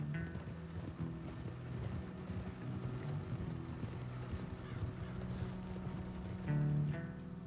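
Horse hooves clip-clop in the Red Dead Redemption 2 video game, with a steady stream of soft, close hoofbeats over a low background, and a brief louder stretch near the end.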